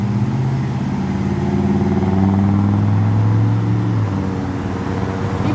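Cars at a busy intersection in Metairie, Louisiana, accelerating hard through a right turn and straight, heard as loud, close engine revving that climbs in pitch and then fades over steady traffic noise, without talk.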